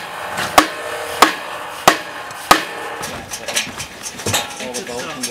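Four sharp, evenly spaced metallic taps on a Meccano bridge bar, struck into place during canal bridge construction on the Manchester, Bolton & Bury Canal, followed by quieter knocks and rattling handling noises, close by.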